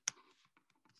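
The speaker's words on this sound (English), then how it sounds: "we're going to type in a string" Typing code on a computer keyboard: one sharp key strike followed by a handful of light, quick taps in an uneven rhythm, close and quiet, with no talking.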